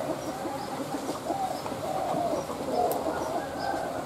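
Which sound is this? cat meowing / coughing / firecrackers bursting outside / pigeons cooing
pigeons cooing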